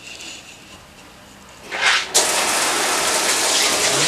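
Water bursts from a lowered shower head as the hot line of a static park home is drained, starting after a brief rising hiss and then gushing loudly and steadily.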